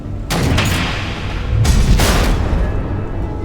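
Heavy explosions from missiles in the Batman Telltale game: two deep, loud booming blasts, each rolling on into a long rumble with no voices over them.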